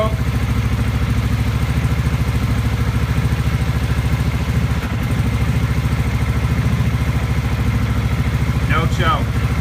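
Kawasaki VN750 motorcycle on a cold start with the choke at quarter, its engine idling in a steady, close, fast-pulsing throb with a light mechanical clatter.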